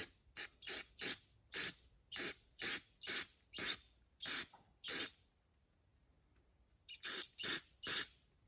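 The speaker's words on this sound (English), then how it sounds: "I'm going to spray through there, and I'm watching it squirt out of all those little holes that we just cleaned." Short hissing bursts of spray cleaner forced through the jets of a small engine carburetor, about a dozen quick puffs in an irregular rhythm, a pause of silence, then three more close bursts.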